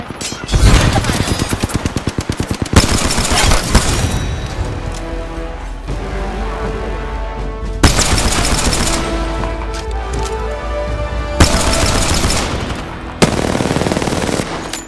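Apex Legends gunfire: loud, close automatic weapon bursts with rapid rattling shots, broken by brief pauses and sharp impacts between volleys.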